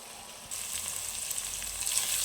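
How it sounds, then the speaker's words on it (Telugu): Ginger garlic paste frying in a pan for a Telugu liver and amaranth leaf fry, a steady close sizzle that jumps louder as the paste hits the hot oil, with no talking. "కొంచెం అల్లం వెల్లుల్లి పేస్ట్ వేసుకుంటున్నాండి ఇందులో కూడా దీన్ని బాగా ఫ్రై కావాలండి"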